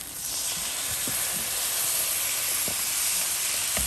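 Vegetables for shrimp cauliflower fried rice sizzle in a hot pan, a loud, steady, broad hiss that fills the whole stretch close up, with a few faint knocks underneath and no talk.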